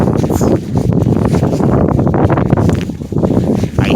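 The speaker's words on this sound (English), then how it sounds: "I hate 30 miles per hour winds." A strong, gusty wind of about 30 miles per hour produces a loud, constant roar and rumble, buffeting the microphone in uneven surges throughout.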